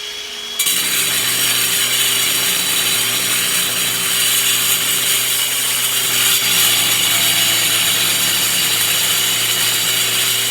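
A power tool starts up abruptly and runs steadily, loud and close, as it cuts a channel into a wall indoors, holding a constant whining drone with no talk.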